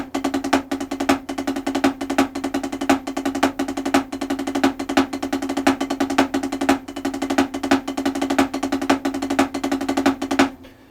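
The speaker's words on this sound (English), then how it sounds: "Now we can add the double stroke roll fill-ins" Drum kit playing faster double stroke roll fill-ins, a continuous buzzing rattle of quick paired strokes with accented hits, loud and up close, ending abruptly near the end with no speech.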